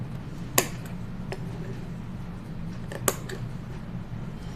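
Sewing scissors cutting fabric, two or three crisp snips spread across a quiet room hum, faint and close, with no talk.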